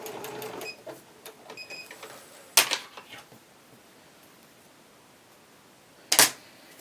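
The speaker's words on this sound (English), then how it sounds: "I'm going to back stitch at the other end." Sewing machine back stitching the end of a fabric tube: a short burst of rapid mechanical stitching at the start, then two sharp loud clacks separated by quieter pauses.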